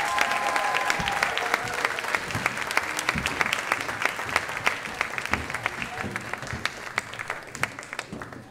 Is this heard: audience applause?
yes